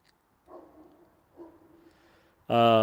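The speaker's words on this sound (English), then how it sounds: "Who's barking? That's my neighbor's dog." A neighbor's dog barks at a distance, giving two faint, muffled barks in the quiet background, before a loud close sound abruptly starts at the end.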